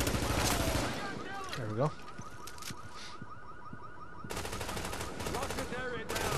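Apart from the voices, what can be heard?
enemy gunfire in The Division video game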